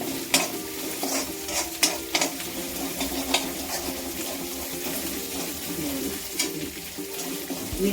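Eggplant for bharta roasting over a lowered gas flame, a continuous close crackle and hiss with a few sharp pops and taps, and no voices over it.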